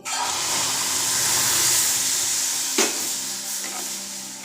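Two bowls of milk are poured onto semolina frying in a pan over low gas and stirred. A steady, close steaming hiss and sizzle is broken by one sharp scrape of the spoon.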